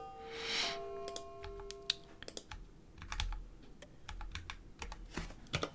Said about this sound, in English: So great at typing.